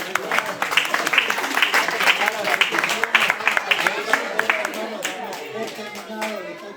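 Congregation applauding a speaker at a church talk, a crowd of hands clapping in a lively, uneven patter that fades toward the end while a voice speaks over it.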